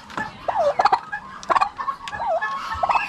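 Turkey chicks give repeated high, wavering peeps close by, overlapping in quick bursts with short gaps.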